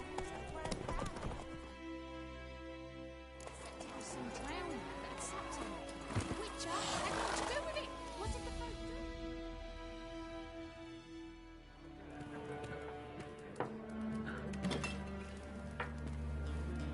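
Hooves of Roach, Geralt's horse in The Witcher 3, clip-clop steadily at a walk across ground near White Orchard, fairly close and clear under soft background music, with a brief neigh partway through.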